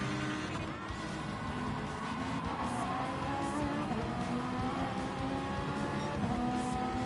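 Race cars in Gran Turismo 7 at Daytona, USA during a GT World Series Manufacturers Cup round, including a Ferrari, with several engines droning and rising in pitch together in a steady, fairly faint roar.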